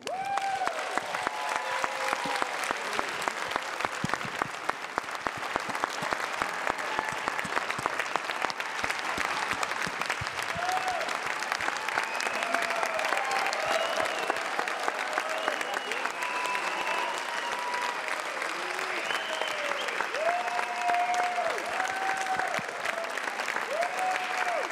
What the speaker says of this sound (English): please give a big round of applause for the guy that started it all